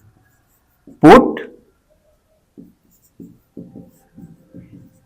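Chalk or marker writing on a board during a math lesson on polynomials: one sharp scraping stroke, then a series of short, soft scratchy strokes in an otherwise quiet room, with a brief spoken word.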